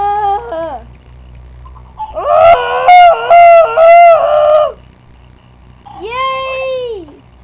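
Chickens in the video game Minecraft give a few short, high-pitched, tonal clucks and squawks, spaced out against near silence with a low background hum.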